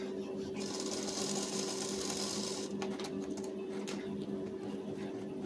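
A sewing machine runs steadily, sewing loose basting stitches along the side of blouse fabric, with a close mechanical hum and brief shifts in pace partway through.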